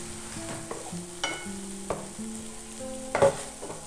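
Masala cooking in a pan after a splash of water, soft sizzling with intermittent scraping and clinking stirs of a spoon, fairly quiet and close, with a faint background hum.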